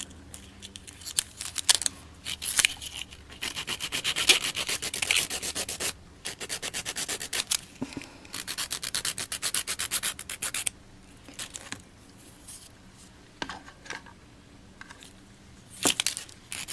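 Acrylic nails being scraped off by hand, giving a steady run of close, rasping scratches in dense bursts with a few brief pauses.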